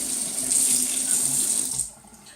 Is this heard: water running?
yes